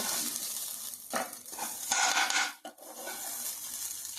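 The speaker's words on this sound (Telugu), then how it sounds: "ఈ విధంగా తిప్పుకుంటూ ఉండాలి రంగు వచ్చేదాకా" Spatula scraping and stirring a grated coconut mixture in a pan while making coconut laddu, with a faint sizzle underneath and steady rubbing strokes, close and moderately loud, no voices.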